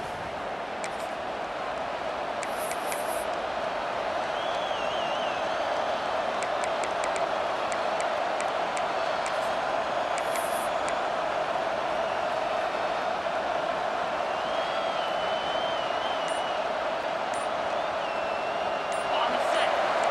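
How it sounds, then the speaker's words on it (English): A stadium crowd in the NCAA 26 college football video game roars steadily through a tense late fourth-quarter defensive stand, a dense, continuous wash of cheering that holds even and loud from start to finish. "this crowd is coming to help the defense"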